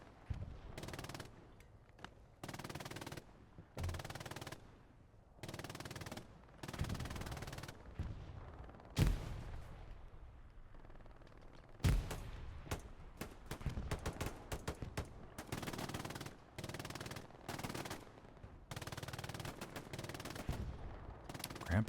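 Machine gun fire in the World War II shooter Hell Let Loose, loud sustained bursts repeating in rhythmic chunks with short pauses between them, plus a few heavier single blasts, no talking.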